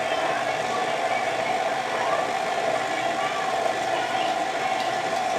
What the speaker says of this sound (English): now we're going to turn the mixer on and just slowly mix all this in.